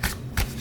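Playing cards handled on a table as one turns over, giving two short papery flicks close to the microphone, quiet and brief.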